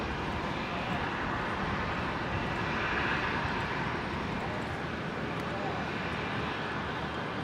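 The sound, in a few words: Qantas Boeing 737-800 landing at Brisbane airport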